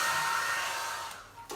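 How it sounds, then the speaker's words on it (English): A hair dryer blows in a steady, loud, close whoosh, used to speed the drying of layered chalkboard paint on a mason jar, then cuts off near the end with a brief final blast. "it does require my hair dryer so that I can speed the process along"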